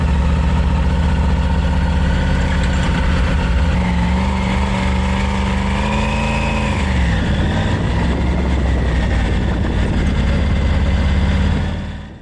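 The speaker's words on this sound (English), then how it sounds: "hit that button and hear the triple for the first time, and you twist that throttle" A Triumph Tiger 900 three-cylinder motorcycle engine runs loud and close, with a steady idle rumble. Around the middle the pitch sweeps up and back down in a throttle blip, then settles to idle again before cutting off at the end.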